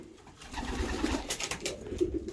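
Racing pigeons cooing in a loft after a long race, soft repeated low coos close by over a steady background rustle, with no talk.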